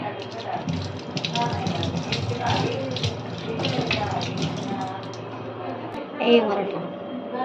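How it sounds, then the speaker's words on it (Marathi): Tomatoes being washed under running tap water in a home kitchen, a steady close stream of water with splashing and a brief louder gush near the end, with someone talking over it. "आता चला, धुवून घेते टोमॅटो."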